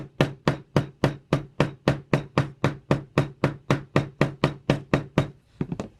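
Rapid, evenly spaced metallic hammer taps on a wire ring resting on a bench block, about three per second, sharp and close, continuing steadily before a few lighter, uneven strikes at the end.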